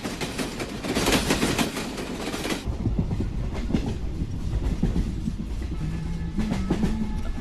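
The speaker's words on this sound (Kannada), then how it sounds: "ಓ ಸಾರಿ, ಟ್ರೈನ್ ಬಂತಂತ ಬಂದ್ಬಿಟ್ಟೆ." A train arrives and passes nearby, with a loud roar of rolling wheels and rhythmic clickety-clack from the carriages that stays steady throughout, alongside a faint squeal of wheels near the end.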